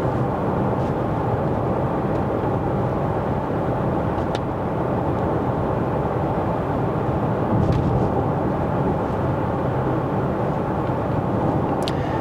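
Inside an Audi e-tron GT electric car cruising at 80 km/h in efficiency drive mode, a steady broadband road and wind hum fills the cabin, even and continuous with a few faint clicks and no talking.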